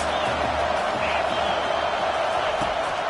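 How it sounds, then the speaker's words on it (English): Stadium crowd in the College Football 25 video game, a dense continuous roar of cheering at steady loudness with a commentator's voice over it. "Big third down as the crowd gets behind this defense."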